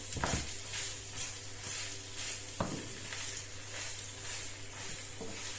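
Ground beef mince and onions fry in a pan with a steady close sizzle, broken by a few sharp scrapes and clicks of stirring at irregular intervals.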